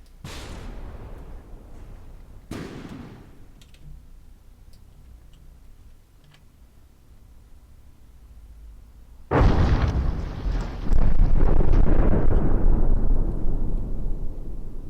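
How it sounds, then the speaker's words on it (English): Ammunition cooks off aboard a warship in the naval combat game From the Depths: two sharp early blasts with faint crackling between, then a huge loud roaring explosion that rumbles on for several seconds. "I think that was more ammunition gone up there."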